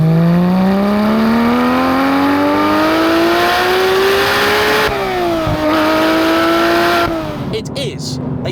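A manual 991.2 Porsche 911 GT3 accelerates hard, its engine note climbing loudly through the revs with quick gear changes and a dip in pitch at each shift, close and dominant throughout.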